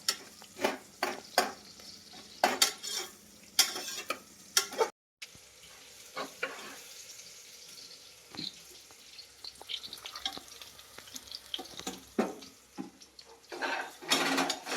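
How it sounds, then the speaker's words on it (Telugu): Two sliced onions frying and stirred toward brown for chicken biryani, a hissing sizzle broken by rapid clattering spatula scrapes, briefly cut to silence, then steady frying with scattered stirs, close and without speech. "బ్రౌన్ కలర్ వచ్చేంత వరకు ఇది వేగాలి బాగా"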